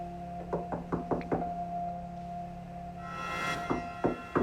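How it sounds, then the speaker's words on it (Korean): A series of knocks on a door, five quick raps, a pause with a swelling tonal drone, then a few more knocks near the end, close and distinct over a steady low hum. "누군가 문을 두드리는 소리가 들렸어요."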